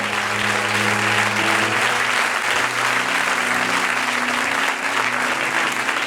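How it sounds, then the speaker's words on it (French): A church congregation in Paris claps hands continuously, loud and sustained, with a low hum of music or voices running underneath. "Clap your hand, keep clapping your hands."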